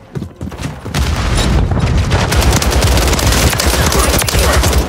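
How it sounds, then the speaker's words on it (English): A grenade blast booms and gives way to a loud, sustained wash of rapid gunfire and rumbling combat noise, close and dense, in Call of Duty Modern Warfare 3 multiplayer. "Grenade out."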